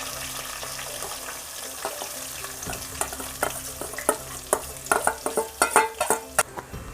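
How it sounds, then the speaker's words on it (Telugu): Onions and green chillies frying in oil with curry leaves for a village-style fish curry, a steady sizzle with clattering stirs growing louder and busier toward the end, no talk. "కరివేపాకు వేసుకున్నాక మనం తరుపుకున్న ఉల్లిపాయలు పచ్చిమిర్చి ఇవన్నీ వేసుకొని వేయించుకోవాలి."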